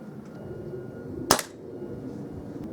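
A single sharp shot from a Kral NP02 air rifle fired at a paper target, a crisp close crack with a short tail over faint background noise.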